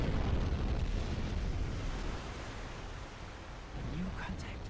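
A depth charge explodes in the submarine game Silent Hunter 5, a broad, heavy rumbling roar that fills the clip and slowly subsides, with a faint voice underneath.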